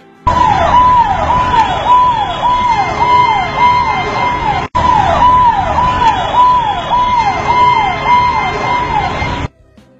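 A loud, close ambulance siren wails in a fast repeating up-and-down sweep, continuous apart from a momentary cut, then stops abruptly near the end.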